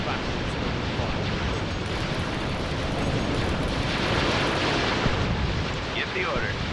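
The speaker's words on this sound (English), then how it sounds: "All batteries open fire." Artillery batteries open fire in the space strategy game Sins of a Solar Empire, a dense, continuous roar of booming and rumbling blasts that holds steady at high volume throughout.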